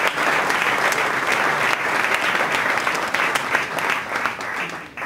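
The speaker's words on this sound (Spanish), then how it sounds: "le pido un aplauso, que va a hablar para todos nosotros Ernesto Laclau" An audience at a forum on Peronism claps steadily for the speaker Ernesto Laclau, a thick, even wash of many hands that holds strong throughout and eases slightly near the end.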